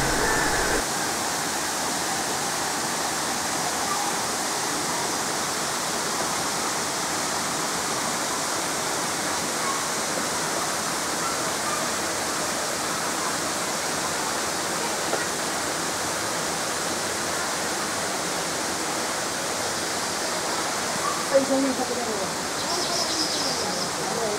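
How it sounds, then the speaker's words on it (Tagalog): Constant rushing water of a small waterfall and spring-fed mountain river at Balete Falls, Philippines, a dense steady roar close by with no break across the whole stretch. "makikita mo na ang maliit na falls at ang ilog na galing sa bukal na mula sa bundok"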